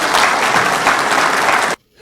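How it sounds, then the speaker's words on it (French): Loud, dense applause from a crowd fills the space evenly for nearly two seconds, then cuts off abruptly into near silence. "ces performances méritent des applaudissements"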